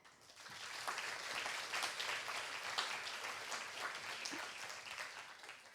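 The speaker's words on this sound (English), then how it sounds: "I'd like to ask for a very, very large applause for Leonie Korte and Hannah Pesch." A conference crowd at the IIC Student and Emerging Conservator Conference applauds the organizers, a broad, sustained patter of many hands that swells quickly and holds at an even level, moderately distant.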